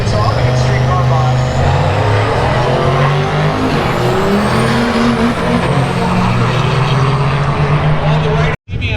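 A 1969 Camaro runs at a drag race at South Georgia Motorsports Park during Sick Week. A loud, continuous engine roar with shifting, rising tones is heard close by, while a voice talks over it.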